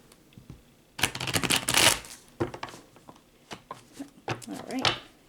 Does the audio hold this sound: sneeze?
no